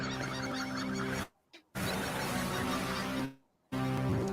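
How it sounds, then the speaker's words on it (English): Loud raucous seagull calls, repeated squawks and cries in dense bursts, broken by two short silent gaps. "We have some seagulls."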